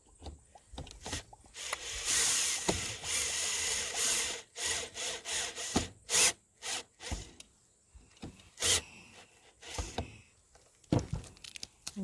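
Power driver sinking a screw into a wooden Victorian birdhouse outdoors, a sustained whirring grind followed by a series of short, choppy bursts and pauses, fairly quiet.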